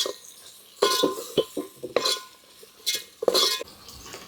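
Vegetable biryani masala stirred in a pot with a metal spoon, giving several loud scrapes and clinks against the pot in an irregular rhythm, close by, with no talking.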